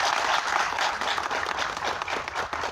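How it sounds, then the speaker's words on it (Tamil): A large audience at a film audio launch event bursts into dense, sustained applause, loud and steady throughout with no gaps. "அவருக்கு ஒரு மிக பெரிய கைத்தட்டல் கொடுக்கணும்."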